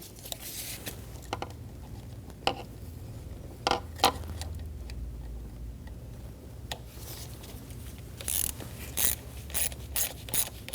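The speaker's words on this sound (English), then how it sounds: "Snug the bolt down." A ratchet snugs a bolt down on a Volkswagen Passat 2.5L variable valve timing solenoid. It makes faint, irregular clicking bursts that grow quicker near the end over a low background rumble.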